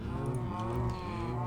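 A cow moos in a Minecraft modpack game, a sustained low lowing call lasting over a second, loud and alone with no talk.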